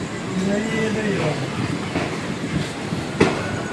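A train leaving Karmali station in Goa rumbles steadily with clattering wheels and a brief metallic clank near the end, while people talk in the background.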